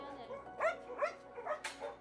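Dogs in kennel boxes at an animal shelter give several short barks and yips in quick succession, close by, with people talking throughout.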